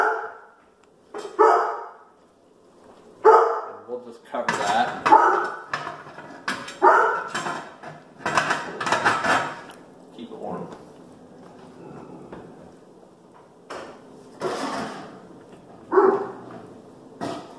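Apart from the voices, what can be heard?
dog barking at visitors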